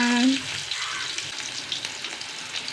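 Small shallots sizzle and crackle steadily in hot oil for a Kerala-style curry, with a brief tonal hum at the very start.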